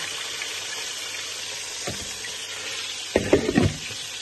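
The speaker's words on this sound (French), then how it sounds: "Après avoir gratiné notre viande, nous allons y ajouter de l'eau pour faire cuire la viande." Water runs into a pan of browned meat for a peanut sauce, a steady faint hiss of cooking giving way to a brief, louder gush and sizzle near the end.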